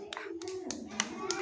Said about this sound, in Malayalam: പൗർണമിക്ക് ഒരു ക്ലാപ്പ് കൊടുത്തേ